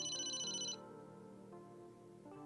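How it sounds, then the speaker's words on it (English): Video game phone ringtone in Emio - The Smiling Man, a bright electronic ring tone burst at the start that gives way to a softer sustained musical tone, heard alone at moderate level. "Oh, the phone's ringing."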